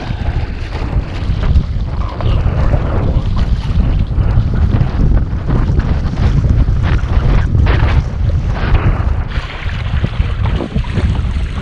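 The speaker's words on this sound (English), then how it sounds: "Breeze." Wind buffets hard and continuously while a small sailboat runs close along a beach, with a loud steady rush of breeze and water and no voices.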